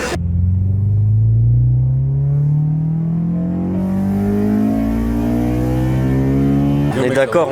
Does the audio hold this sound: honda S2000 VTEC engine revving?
yes